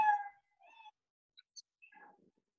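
A cat meow played by a Scratch program sounds in a quiet classroom: a brief tonal meow at the start, then a few faint, short, scattered chirps and mews at moderate distance, with no talk.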